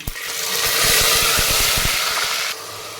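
Mustard seeds, cumin, bay leaves and chopped onion hit hot oil with a loud, close hissing sizzle and a rapid run of crackling pops, the hiss dropping sharply to a quieter fry after a few seconds.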